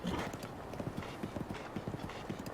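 Horse galloping in the video game Breath of the Wild, a steady rhythmic clip-clop of hooves at a fast pace, fairly close, with faint background game ambience and no talk.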